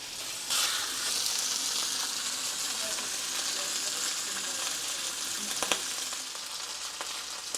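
Beef shanks searing in a hot pan for osso buco, a loud continuous sizzle and crackle that starts abruptly and stays steady, with a few small clinks near the end.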